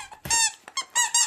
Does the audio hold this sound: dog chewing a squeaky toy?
yes